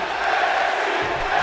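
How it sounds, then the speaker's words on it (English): Arena crowd in WWE 2K22 chanting NXT at a live wrestling show: a dense, loud, continuous roar of many voices with a rhythmic chant swelling throughout. "The crowd chanting NXT, live crowd tonight."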